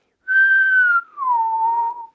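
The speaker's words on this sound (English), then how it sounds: "If you can whistle backwards, you can bend your whistle." A whistle produced while breathing in, its pitch bent: one steady, clear tone that drops and slides into a second, lower sustained tone, close and alone.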